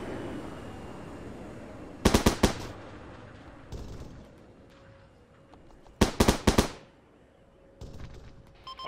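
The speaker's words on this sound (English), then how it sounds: "Where's this firing from?" Automatic gunfire in the Arma 3 military video game, heard as two sharp, rapid bursts several seconds apart, with fainter scattered shots between them against a quiet background.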